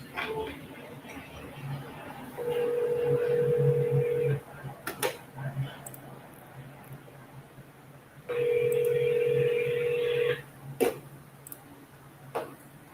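A telephone call rings out twice on a steady electronic ring tone, each tone lasting about two seconds, with clicks and brief beeps between redials. A person talks between the rings.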